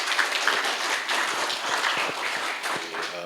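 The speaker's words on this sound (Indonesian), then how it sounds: "kita beri aplaus dulu untuk semuanya" An audience at an international seminar on construction and sustainable infrastructure claps together in a steady wash of applause for several seconds, close and fairly loud.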